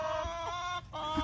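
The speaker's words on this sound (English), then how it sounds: "Poor chickens." Baby chickens in a backyard coop cluck and chirp in repeated short calls, close by and fairly loud, with no talking over them.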